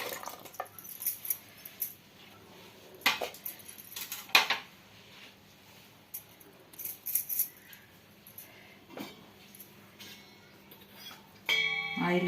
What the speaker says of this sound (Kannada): ಇವಾಗ ನಾವೆಲ್ಲ ಕಟ್ ಮಾಡಿ ಇಟ್ಕೊಂಡಿದ್ವಲ್ಲ ಬದನೆಕಾಯಿ, ಆಲೂಗಡ್ಡೆನ ಈ ಥರ ಸೇರಿಸ್ಕೊಳ್ಳೋಣ.